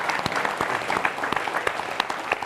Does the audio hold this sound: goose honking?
no